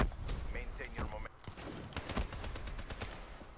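Rapid automatic gunfire in Call of Duty: Black Ops 3, a fast burst of repeated shots in the second half after scattered single blasts, set against game ambience and a player's voice.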